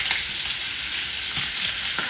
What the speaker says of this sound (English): You're putting cheddar cheese in a frying pan.